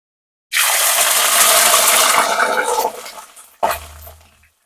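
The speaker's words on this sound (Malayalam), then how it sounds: "നമുക്ക് ഇഞ്ചിയിൽ എന്തായാലും കുറച്ചൊരു വെള്ളത്തിന്റെ അംശം ഉണ്ടാവില്ല, അതുകൊണ്ടാണ് ആ സൗണ്ട്" Chopped ginger drops into hot coconut oil for a sadya-style inji puli and sets off a loud, close, broadband sizzle. It eases off after a few seconds, then a second short burst flares up briefly and fades out.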